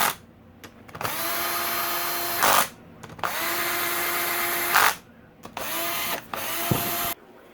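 Engine cover bolts on a CRF250R motor being run in with a cordless power drill, three long bursts of high-pitched whirring with short pauses and clicks between them, close and loud, no talk.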